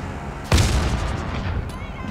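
A single loud, close shotgun blast in a video game cracks out and booms into a lingering rumbling decay, set against a low background hum.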